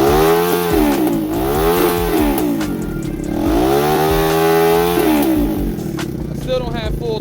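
A Grom clone motorcycle with a swapped ZS190 2-valve engine revs repeatedly up close, loud buzzing rises and falls in several throttle blips over a rough idle.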